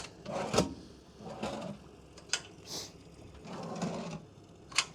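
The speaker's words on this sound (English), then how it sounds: "There are two little drawers for some tackle on either side." Small tackle drawers on a Raider 300 Offshore boat sliding open and shut, giving several soft rubbing slides and a few sharper knocks spread over a few seconds, quiet and close by.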